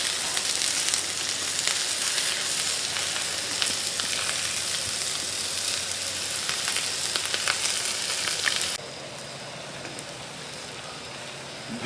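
Potatoes fry on a flat-top griddle for pulled pork hash with a close, steady crackling sizzle that suddenly drops to a quieter, duller fry near the end.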